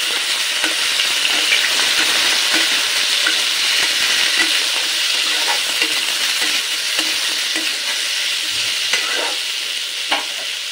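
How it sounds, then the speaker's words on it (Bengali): Cut potatoes go into hot white oil tempered with black cumin in a pan, frying with a steady bright sizzle and occasional stirring scrapes and clicks, close and continuous without talk. "ফোড়নটা গরম হয়ে গেলে দিয়ে দেব কেটে রাখা আলু।"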